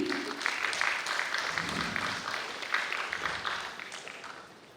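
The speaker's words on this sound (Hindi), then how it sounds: "जोरदार तालियां इनके लिए भी" An audience at a community program in Ranchi, Jharkhand claps for a guest on stage, a fairly loud burst of crowd applause that gradually fades toward the end.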